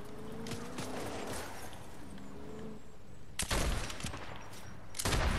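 Gunfire in the video game Fortnite: a scattered stretch of distant shots, then two louder, sharper bursts close by, with faint game ambience underneath.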